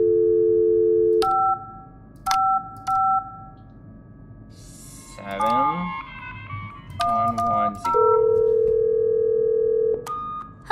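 Telephone keypad tones beep in quick sequence as a number is dialed in the game Don't Fret, followed by a ringing tone and a long steady line tone, all clear and close with brief speech in between.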